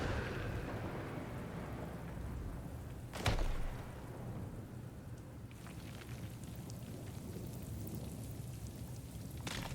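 Steady thunderstorm rain pours in The Last Guardian, with a loud thunder crack and rumble around three seconds in, then continuing rainfall with scattered drips and patters on surfaces.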